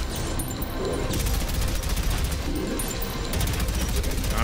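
Steady, continuous gunfire rattles against a boss demon in Prodeus, dense and loud throughout, with rapid repeated shots layered over a constant heavy game soundscape.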